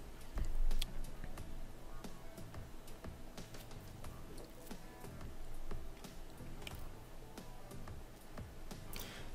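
Typing on a Bluetooth keyboard connected to an Amazon Fire TV, a steady run of close, crisp key clicks and taps with irregular rhythm throughout, no talking.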